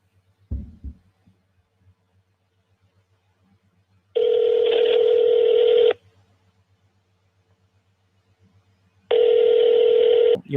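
A telephone redialing a number produces two long, loud steady tones several seconds apart over a faint low hum, with a brief clatter near the start.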